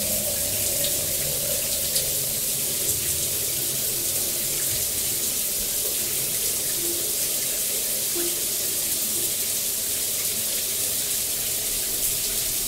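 Gas-heated shower opened fully, water pouring in a loud, steady hiss that fills the whole stretch without a break, close by and unaccompanied by voices.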